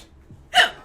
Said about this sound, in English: Your hiccups are adorable.